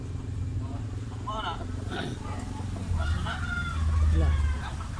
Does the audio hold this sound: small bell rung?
no